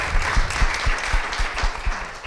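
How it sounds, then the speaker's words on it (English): An audience applauds at a political press event with Speaker McCarthy and Marjorie Taylor Greene, a dense patter of many hands clapping, steady and fairly loud. "let's give a big round of applause for Miley, Macy, Margot, and Chloe."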